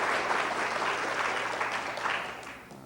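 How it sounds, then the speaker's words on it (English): Audience applause at a skeptics lecture, steady dense clapping from a crowd lasting a few seconds at moderate level, then tapering off. "let's give the people here a round of applause for helping out"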